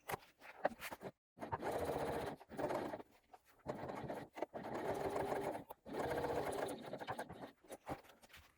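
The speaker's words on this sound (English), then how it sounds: "Top stitching through the seam allowance and the side panel." A sewing machine top stitches through the seam allowance and side panel of a fabric bag, running in several steady bursts separated by short pauses, close and clear.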